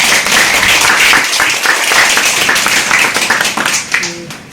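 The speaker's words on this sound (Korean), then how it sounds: "감사의 박수." A congregation at a university campus chapel service claps loudly and enthusiastically, a full, close burst of applause that holds steady for several seconds and then thins out near the end.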